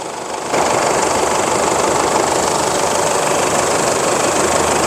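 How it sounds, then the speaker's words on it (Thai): A 4x4 van engine settles into a steady idle right after starting, a close, even mechanical hum with no talking. "สตาร์ทเครื่องยนต์แล้วนะครับผม"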